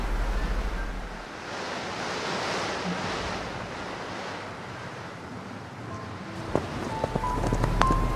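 Strong Wyoming wind blowing across open country, a steady roaring rush with buffeting gusts against the microphone and a few faint clicks near the end.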